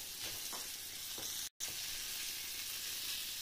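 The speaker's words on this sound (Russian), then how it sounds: "старая сковорода, на которой все хорошо жарится" Flounder coated in flour frying in an old frying pan, a steady close sizzle with faint stirring scrapes, briefly cut off by a short gap, with no talk.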